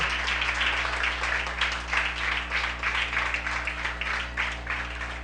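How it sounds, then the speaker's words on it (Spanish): A church congregation gives a strong round of applause, many hands clapping steadily in slightly pulsing waves for several seconds over a constant low electrical hum, with no talk on top. "Dele un fuerte aplauso al Señor."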